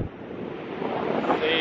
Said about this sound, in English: Some waves, mate.